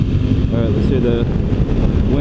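Heavy wind roar buffets the microphone while riding a 2016 Suzuki V-Strom 1000 motorcycle at highway speed in sixth gear, loud and steady throughout.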